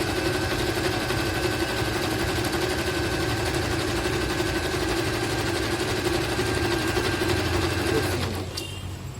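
A Singer 1306 Fashion Maker sewing machine stitches fabric at speed, a loud, steady mechanical rattle running continuously for about eight seconds before cutting off abruptly, with no talk.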